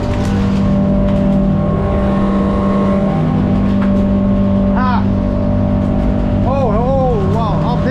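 A 2021 22-foot North River Seahawk boat's engine runs steadily at about 5,800 rpm, a loud continuous drone with wind and water noise throughout, joined by chirpy whistling tones near the end.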